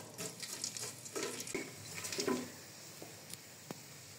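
Whole spices such as cardamom, cloves, cinnamon and bay leaf hit hot oil in a heated pot, giving bursts of crackling sizzle that soon settle into a quieter fry with a few isolated pops.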